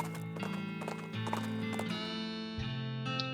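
Horse clip-clop and a brief whinny from the West of Loathing video game, set over steady game music, with hoofbeats tapping in a quick rhythm through the short stretch.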